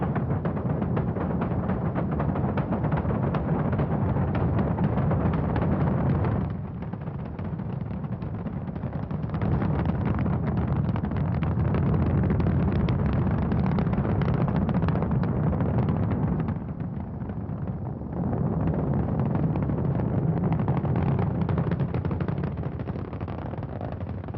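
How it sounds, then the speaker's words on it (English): A loud, sustained Apollo 9 rocket engine roar at liftoff with deep rumbling and crackling, steady for the whole stretch with brief dips in intensity, no voices. "All engines running. Commit. Liftoff."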